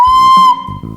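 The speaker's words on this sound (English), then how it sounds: "So if you blow into a recorder, it sounds like this." A shrill, piercing recorder note blown hard, steady and loud with a slight waver, over a faint low hum.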